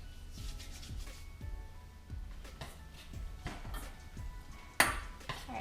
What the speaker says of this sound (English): we're just gonna stir until it's a complete liquid